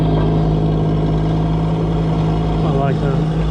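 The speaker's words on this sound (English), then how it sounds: "This is a little 1000cc 3-cylinder diesel engine purring away." A small 1000cc three-cylinder diesel engine purrs at a steady idle, a loud, close, even low hum with a sustained tone, while a voice speaks briefly over it.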